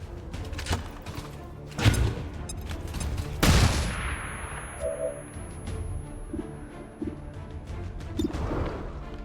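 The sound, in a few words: grenade thrown and exploding in a video game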